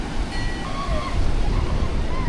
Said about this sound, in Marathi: हा आहे रंदा फॉल भंडारदाऱ्यातील